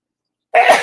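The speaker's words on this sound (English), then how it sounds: "Holy crow, that was a sneeze." A single sudden, loud sneeze bursts out close to the mic after a stretch of silence and trails off in a breathy rush.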